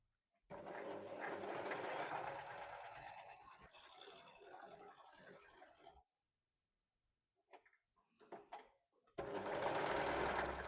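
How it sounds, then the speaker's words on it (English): Overlocker sewing machine stitching fabric pockets, a fast whirring mechanical run, then silence, a few brief stop-start bursts, and another loud, close continuous run. "So we're overlocking pockets."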